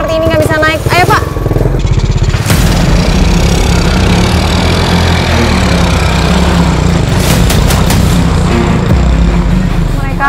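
A motorcycle engine labours and revs hard while struggling up a steep, roughly 60-degree sandy slope, a loud sustained drone with rising and falling pitch, voices briefly heard over it.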